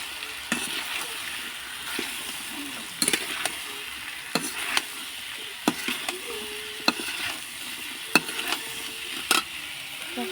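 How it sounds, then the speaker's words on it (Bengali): Taro stolons frying in a pan while being stirred, with a steady low sizzle under intermittent scraping and clinking of a spatula against the pan, close and without speech. "অল্প অল্প করে দিয়ে দেবো, দিয়ে নাড়াচাড়া করে দেবো"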